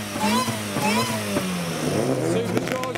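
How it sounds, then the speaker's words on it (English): A supercharged Nissan Micra's engine revs up and down repeatedly with a rising, whining pitch, loud and close at a car meet, while a person talks over it. "Supercharged Micra is revving."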